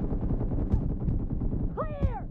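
Gunfire from PUBG Mobile rattles off in a quick string of sharp, close cracks, followed by a brief whistling, warbling sweep near the end.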